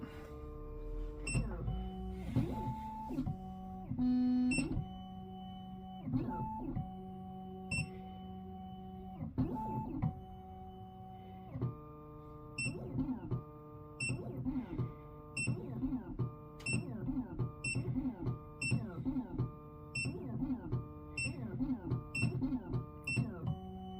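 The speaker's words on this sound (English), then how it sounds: "The machine's now traced out the shape of the existing key" A key cutting machine traces the existing Range Rover emergency key blade, giving a run of repeated mechanical whirs, clicks and electronic beeps in a steady rhythm, close and moderately loud.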